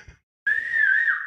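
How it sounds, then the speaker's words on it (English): A person whistles a single sustained, fairly loud note close by, starting after a brief pause and gliding slightly downward at the end, with no talking. "Let's hear a good whistle."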